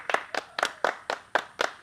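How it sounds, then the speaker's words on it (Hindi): Clapping during a comedy show, seven evenly spaced sharp claps that sound like a single pair of hands, close and clear with no talking over them. "राजा तनी ताली बजा तो"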